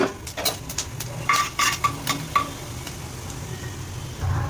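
Whole spices hit hot oil in a pan for a dhaba style chicken masala curry, bringing a soft sizzle under a few clinking scrapes and taps of a utensil against the pot, moderately close.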